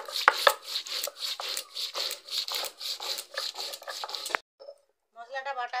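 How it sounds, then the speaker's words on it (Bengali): A paste of two cashews, rice, melon seeds and a little poppy seed being ground by hand: steady, rhythmic scraping strokes, close and fairly loud, then a short pause and a few lighter strokes. "দুটো কাজু আর চাল মগজ আর অল্প করে পোস্ত নিয়েছি। এবার আমি বেটে নিচ্ছি।"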